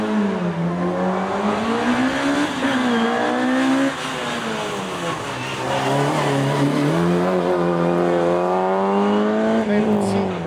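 Peugeot 205 rally car at a slalom event, engine note rising and falling through gear changes and corners for the whole stretch, loud and close, with a commentator talking over it.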